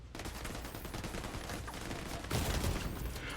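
Shotgun blasts aimed at melee enemies in a video game, a dense, continuous stretch of booming gunfire that swells into a louder burst near the end, with no voices.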